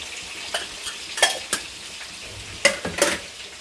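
Cumin and mustard seeds sizzling in hot oil, a low hiss dotted with sharp pops and clicks, several in quick succession, with light utensil taps.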